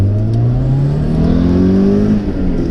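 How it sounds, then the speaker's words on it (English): A modified Toyota MR2 MK1, a mid-engined car of about 130 brake horsepower, revs hard while driving, its engine note climbing steadily and droning loud and close throughout. "Yeah, you really have to rev it to get it going."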